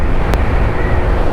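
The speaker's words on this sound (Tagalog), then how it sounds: "Lakas ng hangin dito guys." Strong wind roars and buffets over the microphone during a motorcycle ride on a road toward Tagaytay, a loud steady rush with a low rumble and one brief burst of noise.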